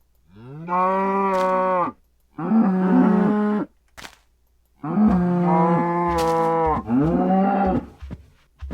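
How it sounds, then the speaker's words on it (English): Cows mooing in Minecraft with the Simply Default resource pack: four long, loud, close moos in sequence, separated by short pauses, with no talk. "I'm gonna spawn a few cows here"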